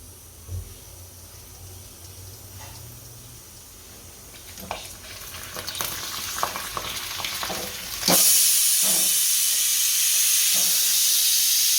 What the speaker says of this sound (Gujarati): આપણું તેલ ગરમ થઈ ગયું, આમાં ભૂંગળા નાખીશું